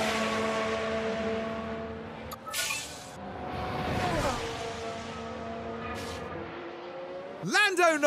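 Race cars in the F1 Manager 24 video game cross the finish line of the Saudi Arabian Grand Prix, engines droning steadily with a brief whoosh of a car passing, a sharp rising rev near the end, and a commentator talking throughout.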